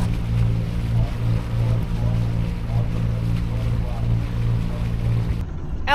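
A sailboat under engine power motoring into a harbour on the Turkish coast between Kekova and Kas, its steady motor drone and hull noise continuous and close, with wind and water around and brief voices underneath.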